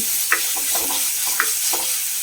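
Chopped shallots fry in coconut oil for a fish chili curry, a bright crackling sizzle broken by sharp spoon scrapes and stirring taps, close up with no voices.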